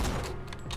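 A single sniper rifle shot in the video game Borderlands 2, a short heavy blast with a booming low thump, close and loud, fading quickly with some ringing tail.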